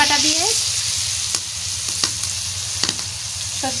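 Turmeric hits hot mustard oil in a pan, producing a steady, close sizzle with a few sharp clicks from stirring.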